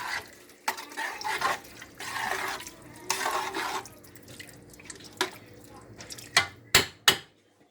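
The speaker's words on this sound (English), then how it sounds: "now I'm going to take all the vegetables and just add them in. Give this a big stir." Vegetables tipped into a cooking pot in a home kitchen, with wet splashy tumbling and sloshing followed by several sharp clanks of a spoon against the pot, close and fairly loud.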